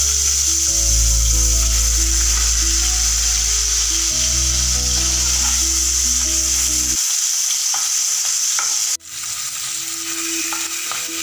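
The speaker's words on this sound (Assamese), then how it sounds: "ফ্ৰাই কৰিম।" Two fish fry in hot oil in a wok, giving a loud, continuous sizzle and hiss over a low steady hum that cuts off and resumes.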